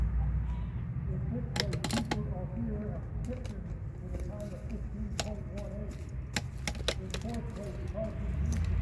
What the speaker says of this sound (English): I'm gonna shuffle a couple more times.